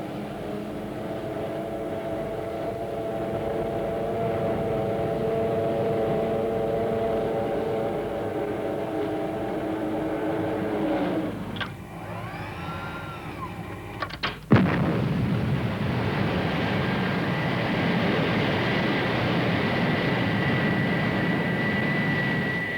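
A small airplane engine drones steadily on a runway, then a sharp clunk cuts in and a louder, broader roar builds as the aircraft takes off.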